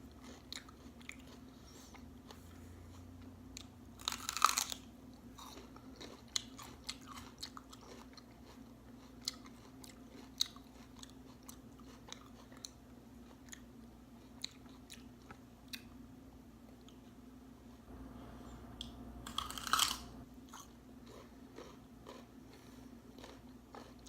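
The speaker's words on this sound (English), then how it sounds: "I'm just having a bit of celery" Crunchy celery is being bitten and chewed close up in a quiet room, with two louder crisp bites and soft, sparse crunching between them.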